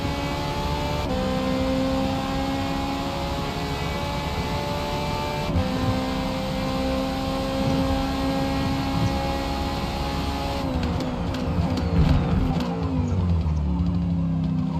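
A race car's engine in a racing sim endurance event at Hockenheim drones steadily near and loud, the pitch climbing through gears with brief dips at shifts, continuous for the whole stretch with no talking.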